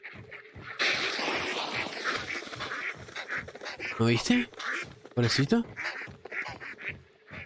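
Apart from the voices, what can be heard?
ducks quacking in the video game Hunt: Showdown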